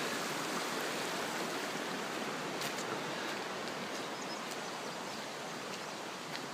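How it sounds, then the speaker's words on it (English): A small waterfall runs down a mountainside after rain, a continuous broadband rush of falling water, close and steady, with no talking over it. "I see another little waterfall over here on the other side."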